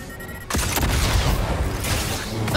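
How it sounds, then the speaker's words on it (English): Blaster gunfire in Star Wars Jedi Survivor, a dense continuous barrage of shots starting abruptly and holding loud throughout with boomy impacts. "Stop firing at me!"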